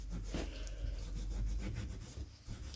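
Steady rubbing and scrubbing as grime is cleaned off the commutator of a Triumph Trident T160 starter motor, a faint, close, continuous abrasive rasp with no talking.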